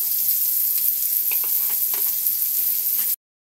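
Garlic toasts in a frying pan with a steady bright sizzle and faint crackle throughout, close and continuous, ending abruptly in silence.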